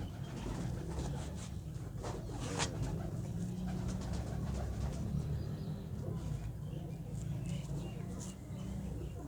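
Racing pigeons coo softly in the background while people talk nearby, the low murmuring calls repeating under a steady ambient hum.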